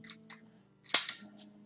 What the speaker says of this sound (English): Okay, I'll shoot everybody I see.